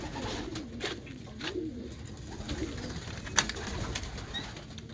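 Pigeons coo softly in a loft in a repeating, low rhythm, with a brief sharp sound partway through. No one speaks.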